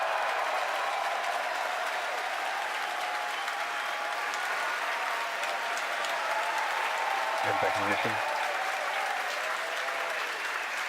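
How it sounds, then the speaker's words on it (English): A crowd cheers and applauds steadily through a Falcon Heavy rocket launch broadcast, a dense, continuous roar that runs the whole stretch while a commentator's voice calls out the flight events over it. "Again, over the cheering"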